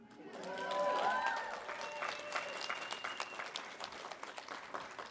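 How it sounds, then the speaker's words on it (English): Audience at a poetry book launch on mass incarceration bursts into sustained applause and cheering, loud and dense from the start, swelling over the first second and then holding steady with scattered whistles and shouts. "Yeah, you can cheer for that."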